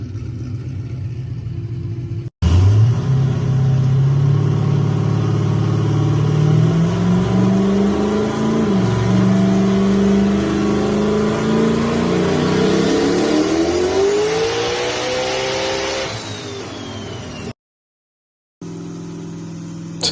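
A turbocharged LS-swapped 1984 Ford LTD roars on a dyno in a long pull, engine pitch climbing steadily under load for about fifteen seconds before cutting off, loud and close.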